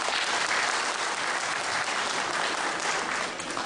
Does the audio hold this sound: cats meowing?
no